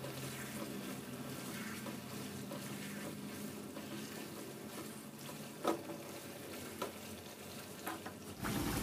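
Food with oyster sauce sizzles quietly in a pan while being stirred, with a few clinks and scrapes of a utensil against the pan.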